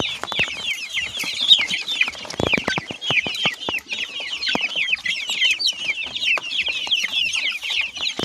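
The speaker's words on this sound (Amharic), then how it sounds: "ስንት ዶሮዎች ናቸው እዚህ ጋር ያሉት?" Around thirty chickens on a rural farm project cluck and call continuously, close and lively, with occasional sharper squawks and a few thumps, and no voices heard.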